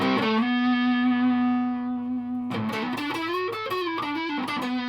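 An electric guitar played through an ARTEC QDD Quadsound preamp set for heavy metal distortion rings out a long sustained, buzzing note, then a quick run of bending, saturated notes.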